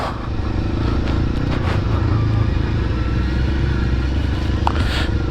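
Motorcycle riding slowly along forest trails, its engine a steady close drone with clattering and scraping from the rough ground, no talk over it.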